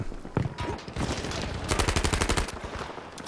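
Gunfire in Battlefield 5 on the Marita map: a few scattered shots, then a rapid automatic burst of sharp cracks, loud and close, with game noise around it.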